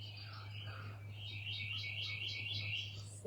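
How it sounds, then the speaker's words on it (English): Birds sing in the morning in quiet, repeated bursts of high chirps over a low steady hum, faint and somewhat distant. "You can hear all the birds waking up and"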